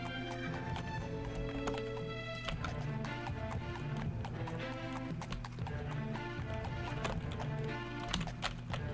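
Galloping horse hooves in the video game Daggerfall Unity, a quick steady clip-clop rhythm over a continuous game music bed, with a brief whinny partway through.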